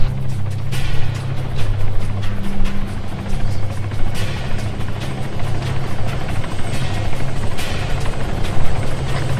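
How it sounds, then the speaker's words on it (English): A military helicopter in the video game ArmA 3 roars up close with a loud, steady rotor thrum and low engine drone, broken by occasional sharp cracks, running unbroken and dominating the scene. "Chopper's taking fire from the east."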